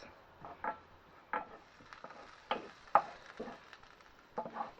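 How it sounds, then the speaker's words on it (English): Crushed garlic fries with softened onion in a pan while a utensil stirs and scrapes, giving intermittent soft clacks and brief scraping bursts over a faint low sizzle, quiet and close. "we're going to add 2 cloves of crushed garlic, and we're going to fry this off again for about 2 minutes"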